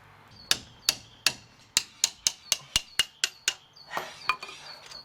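Metal tapping on a round 18 mm wrench during a PT Cruiser brake pad change: about a dozen sharp, ringing clinks in a quick, steady series, close and fairly loud, then a few softer scrapes, with no talking.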